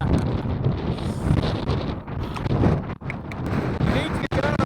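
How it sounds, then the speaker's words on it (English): Strong wind batters the microphone on the Knockmealdown mountain summit, a loud, continuous roaring rumble with gusty surges and a few brief dips. "I can barely stand up in this wind."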